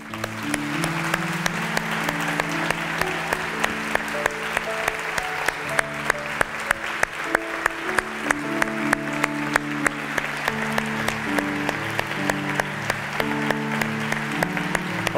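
A church congregation applauds together, a sustained, dense round of clapping with sharp individual claps standing out, continuing steadily throughout at moderate distance.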